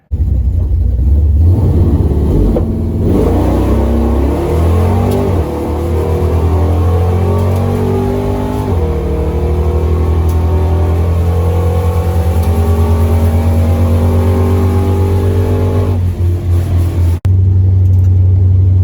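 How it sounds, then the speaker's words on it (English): Street Machine Eliminator cars launch and accelerate down the drag strip at Cordova Dragway during Hot Rod Drag Week 2022, a loud, close engine roar rising through gear changes for about seventeen seconds before cutting off abruptly. "Street Machine Eliminator cars"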